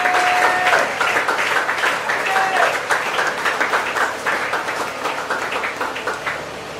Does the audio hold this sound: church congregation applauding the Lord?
yes